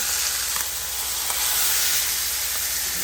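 A thick burger patty sizzles on a hot grill around the moment it is flipped, a loud, constant hissing fry with a few small pops and ticks, and no voices.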